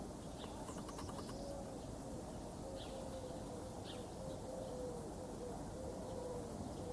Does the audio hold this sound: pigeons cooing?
yes